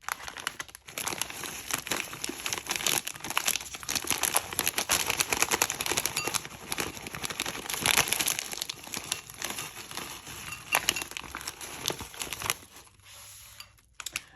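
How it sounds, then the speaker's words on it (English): A bag of garlic parmesan pretzel sticks being cut and pulled open, giving a steady, close crinkling of packaging that runs for most of the stretch before dropping off near the end. "the minute I cut the bag open"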